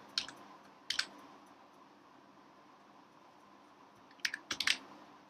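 Keyboard keys typed in Excel come in two quick bursts of clicks, one early and a longer cluster near the end, separated by a quiet stretch with faint room hiss and no talking.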